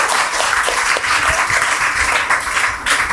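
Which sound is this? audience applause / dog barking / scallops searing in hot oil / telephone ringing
audience applause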